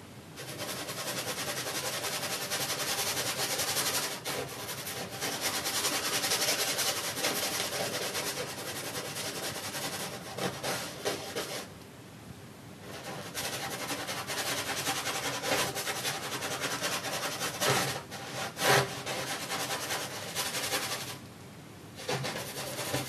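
A paintbrush scrubs oil paint onto canvas in a beach dunes painting, making a steady close-up scratchy rubbing that runs almost continuously with brief pauses.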